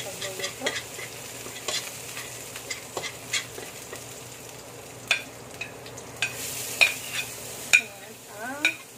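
Garlic sautéing in a pan for spring rolls (lumpiang togue), a steady low sizzle broken by clinks and scrapes of stirring, close and moderately loud with no talk.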